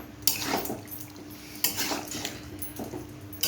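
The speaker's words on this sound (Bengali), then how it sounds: "এই পর্যায়ে আগে থেকে ভেজে রাখা এই আলুটা দিয়ে দেবো। দিয়ে ভালো করে নাড়িয়ে নেব।" Fried potatoes are stirred into spiced chicken in a pan: three distinct metallic scrapes and clanks of a utensil against the pan, fairly quiet, with soft cooking noise between them.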